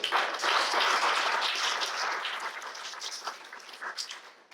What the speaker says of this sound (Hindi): तो खुद के लिए दोबारा एक बार तालियां बजाएं